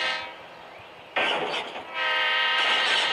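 A train in the Roblox video game passes with a sustained horn blast and a sudden surge of rushing, rumbling carriages, loud and near, without speech.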